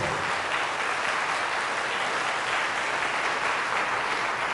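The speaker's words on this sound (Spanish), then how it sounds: "Fuertes aplausos a la palabra de Dios." A congregation applauds after a scripture reading at a Catholic healing service, a steady, full roar of many hands clapping at an even level throughout.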